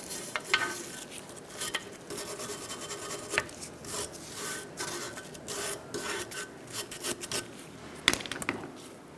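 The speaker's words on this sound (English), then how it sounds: "Get the excess rust off if you have rust." Rust is scrubbed off a 2002-2006 Honda CR-V lower control arm with rapid, irregular rasping strokes, close and fairly loud, with brief pauses and sharper scrapes between bursts.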